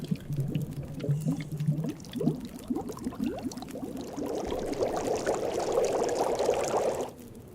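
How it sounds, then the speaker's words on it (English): Water for a litre boil gurgles and bubbles over a fireplace in The Long Dark, a close, steady liquid churning that builds in intensity before cutting off abruptly near the end. "Let's go ahead and boil that litre of water."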